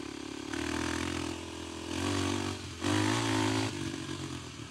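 A Kawasaki KLX300 motorcycle engine in third gear on a test ride around 4,500 rpm, droning steadily and close, its pitch rising and falling slightly as the throttle eases and opens again.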